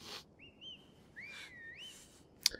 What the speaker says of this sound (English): Everybody's whistling.